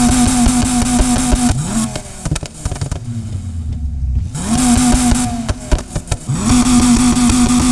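A loud V10 engine in a Need For Speed Heat car revs aggressively in repeated bursts, pitch climbing and dropping, with a quieter lull in the middle before roaring again.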